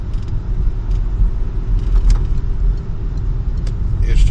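Passenger car turning left onto a city street, with a steady, loud interior engine and road rumble and a couple of faint clicks and rattles.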